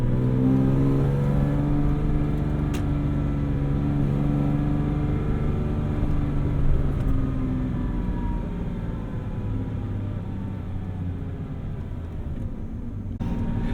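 A 2006 Porsche Cayman S fitted with a full IPE exhaust pulls hard from inside the cabin, its engine note climbing steadily through the gears in a long, loud, continuous run with no talk over it.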